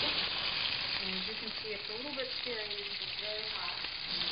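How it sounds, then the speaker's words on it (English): Peeled garlic cloves sizzle in hot fat, a steady dense frying hiss that fills the clip, with faint tonal voice-like traces underneath and no clear words. "I'm going to put in the garlic next."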